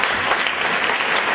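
A church congregation at a prayer vigil bursts into loud, sustained applause acclaiming the Lord, a dense unbroken roar of many hands clapping.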